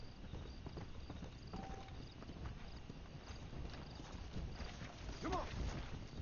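Horse hooves clip-clop steadily on the ground in the Western video game Red Dead Redemption: Undead Nightmare, a rhythmic walking gait over low ambient noise.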